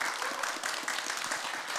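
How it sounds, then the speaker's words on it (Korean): A crowd at a traditional Korean music performance at Bongeunsa temple applauds steadily to welcome a guest professor, the clapping dense and continuous throughout. "박수로 맞이해 주시기 바랍니다."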